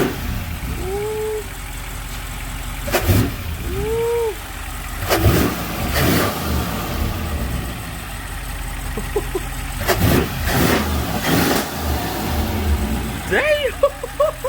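Audi S6 with a CTS intake system installed revs up repeatedly, loud and close, the engine surging and falling while people talk and exclaim over it.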